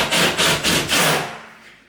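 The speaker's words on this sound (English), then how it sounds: "What we're going to do is just simply drill a small hole so that we can feed our cable through." A small hole drilled through the wall behind a fridge to feed cable, four quick close grinding bursts in a rough rhythm, then a fading whir as the bit winds down.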